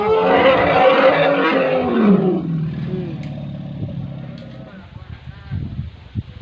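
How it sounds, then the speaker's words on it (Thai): An elephant lets out a deep, rumbling roar up close, fading into quieter grumbles and shuffling afterward. "ลมมาก็จะมีเสียงคำรามของช้างหน่อยนะคะ"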